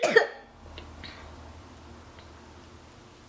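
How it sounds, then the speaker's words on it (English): A single sharp, hard cough up close at the start, followed by faint room noise and a few soft clicks. "When I cough really hard, I feel like I want to throw up."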